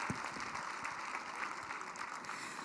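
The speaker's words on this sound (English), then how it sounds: "please give them a round of applause" Applause rises for the Frank Brimsek Award finalists at a hockey banquet, a moderate, even clatter of many hands clapping through a large room.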